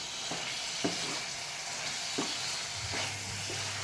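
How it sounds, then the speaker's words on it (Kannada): Brinjal pieces fry in coconut oil in a pan for an Udupi-style palya, a steady close sizzle broken by a few soft stirring scrapes. "ಇದು ಎಣ್ಣೆಯಲ್ಲಿ ಸ್ವಲ್ಪ 1 ನಿಮಿಷ ಬೇಯಬೇಕು"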